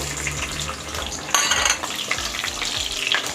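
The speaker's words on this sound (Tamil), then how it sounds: "எண்ணெயில் கொஞ்ச நேரம் வதங்கட்டுங்க." Steady hiss of chopped garlic frying in hot oil, with a brief louder crackling burst partway through and light clinks in the background.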